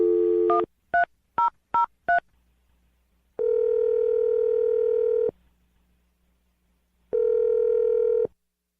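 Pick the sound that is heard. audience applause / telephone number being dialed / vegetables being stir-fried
telephone number being dialed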